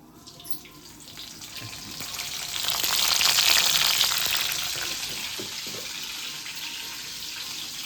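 Cumin and mustard seeds frying in hot oil for tempering, a steady hiss that swells to a loud sizzle midway and then settles, with no voices.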